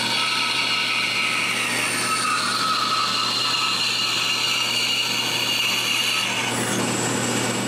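A small bandsaw fitted with a fine blade cuts through plywood, a steady high whine with a rasping hiss running throughout, close and loud, with no voices.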